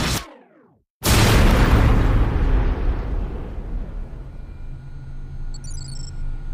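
A supernova explosion in a children's animated show: a short whoosh, a sudden gap, then a loud deep boom that rolls into a long rumbling roar slowly fading, with no voices.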